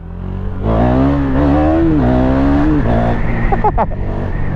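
A 2017 KTM Duke 390 motorcycle engine revs up loudly and close, its pitch climbing in a steady rising whine, then a few sharp throttle blips near the end.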